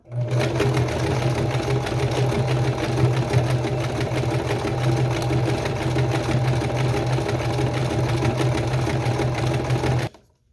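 A sewing machine running a wide zigzag stitch over cord for a boho craft decoration, a steady, close mechanical whir with rapid needle chatter that continues unbroken for about ten seconds, then stops.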